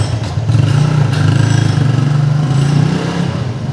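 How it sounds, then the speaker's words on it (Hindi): A motorcycle without a silencer running loudly close by in a Karachi neighbourhood, a steady throbbing idle with rough clattering pulses and no voices over it. "अभी बाइक आएगी, स्टार्ट नहीं हुई।"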